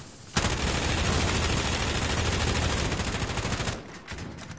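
Rapid automatic gunfire in a video game, a loud sustained burst of shots lasting several seconds before cutting off into quieter background sound, with no talk over it.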